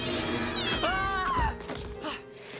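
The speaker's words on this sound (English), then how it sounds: "that's just a furious cat." An angry cat yowls and meows from inside a cardboard box among animal cages at a clinic, a drawn-out loud caterwaul with rising and falling pitch, followed by thumps.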